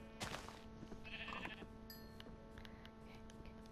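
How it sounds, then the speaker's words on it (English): A Minecraft sheep bleats close by with one clear, wavering baa, heard over faint in-game ambience with no talking. "There's a sheep. I hear sheep."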